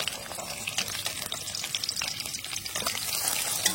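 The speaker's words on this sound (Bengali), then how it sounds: "এবার উল্টে এই পিঠটা ভেজে নেব।" An egg sizzles and fries in a hot pan after being flipped, a steady crackling hiss with scattered pops, close and continuous with no talking.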